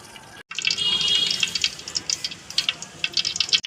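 Cooking oil pours from a container into a heated pan for frying onions in a garlic egg curry, a close, liquid glugging stream lasting a couple of seconds before trailing into small drips and splashes, with no talking.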